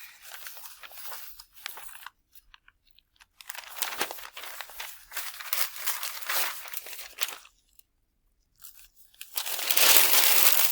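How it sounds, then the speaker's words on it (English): Single sheets of paper crumpled by hand for papier-mâché, giving close, crackly crinkling in uneven bursts separated by short quiet pauses, ending with a louder stretch of crunching. "continue to add to this by opening up single pieces and crumpling these"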